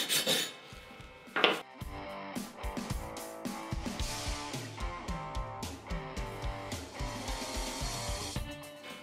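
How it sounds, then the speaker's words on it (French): A chipping hammer taps and a wire brush scrapes across a fresh weld bead to clear slag, with rapid close metallic knocks followed by rhythmic rasping strokes. "J'utilise le marteau à piquer pour enlever le laitier et la brosse pour nettoyer le cordon."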